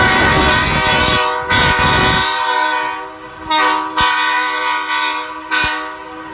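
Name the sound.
marine air horn mounted on a vehicle sounding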